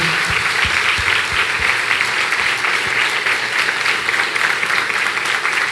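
Loud, steady applause from a church congregation welcomes Pastor Asaph Borba, dense clapping throughout with a few low thumps near the start.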